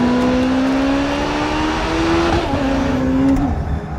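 Czinger 21C 3D-printed hypercar accelerating at full throttle, a loud, close engine note with steady rising pitch, a brief shift near the middle, then climbing again.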